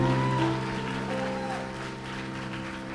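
Church congregation in a worship service clapping together, a soft, steady applause under sustained organ or keyboard chords, moderately distant and continuous.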